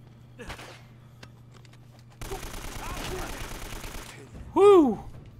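Blind-fire gunshots in the video game Uncharted, a sustained burst of rapid gunfire lasting about two seconds, followed by a short loud tonal game sound near the end.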